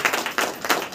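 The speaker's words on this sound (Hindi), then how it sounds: "जोर से ताली बजाएंगे" A congregation at a Hindi-language Christian worship meeting claps loudly in a rhythmic, pulsing pattern, several strong beats of many hands in close succession.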